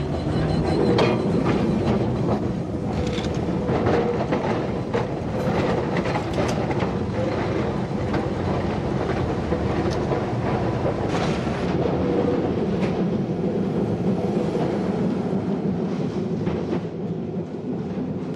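A Melbourne tram on Tram Route 1 riding along St Kilda Road gives a steady, loud rumble from onboard, with continuous rolling wheel noise, occasional clicks and faint squeals, and no talk.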